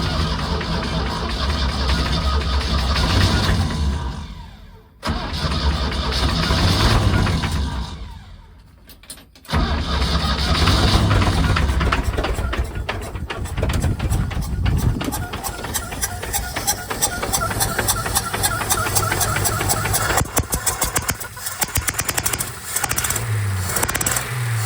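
A rough, uneven 1969 Chevrolet C30 pickup truck engine idles close by, its low rumble faltering and cutting out briefly before catching again and running steadily.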